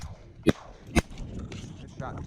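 Two sharp shotgun blasts go off about half a second apart during an early-season teal duck hunt in windy Nebraska, loud and close over constant wind noise.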